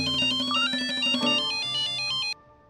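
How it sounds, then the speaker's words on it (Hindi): Melodic ringtone of an incoming phone call, a bright repeating electronic tune played close and loud for about two seconds before cutting off abruptly into quiet room tone. "लैब से फोन आया है।"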